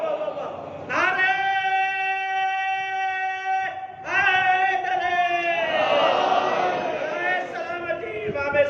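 Crowd at a majlis chanting slogans together, a sustained mass of voices on held tones, pausing briefly then surging again louder and rougher, filling the hall.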